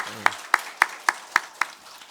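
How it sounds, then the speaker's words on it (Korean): A church congregation gives a short burst of unison clapping, six crisp, evenly spaced claps in a steady rhythm inside a worship hall. "우리 기도할게요 하는 마음으로 박수 한번 하겠습니다"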